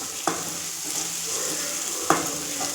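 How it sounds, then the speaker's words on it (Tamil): Spices and mixed ingredients sauté in a hot pan for a slow Tamil-style poori dish, a continuous soft sizzle with two sharp clinks of a spoon against the pan. "இதையும் போட்டு அப்படியே எல்லாத்தையும் சேர்த்து ஒரு வதக்கு"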